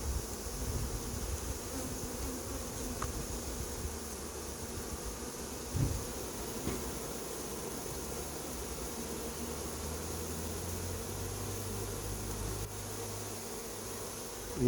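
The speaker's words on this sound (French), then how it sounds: "Il y a encore un paquet d'abeilles au milieu" A swarm of honeybees buzzes and flies around a hive being collected outdoors near Ozoir-la-Ferrière, a dense steady drone of many wings lasting throughout with a few brief clicks and rustles.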